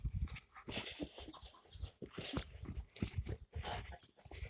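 Chickens cluck in a steady stream of short, busy calls, fairly close, with scattered scratches and shuffling noises around them.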